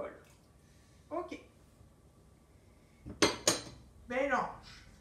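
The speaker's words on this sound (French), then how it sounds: "Je mets les blancs dans le bol." Egg whites go into a bowl amid clinking dishes and cutlery, a few bright knocks and clinks between short bursts of a voice speaking nearby.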